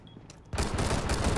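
Video game gunfire erupts after a quiet half-second, a dense continuous burst of rapid shots and fusillade that stays loud and close to the end.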